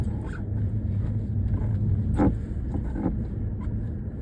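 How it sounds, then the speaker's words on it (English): Idling cars queue to enter the Arapahoe Basin ski area parking lot in Colorado, a steady low engine rumble close by with a few faint clicks and rustles and no talk. "Big lineup of cars to get in here."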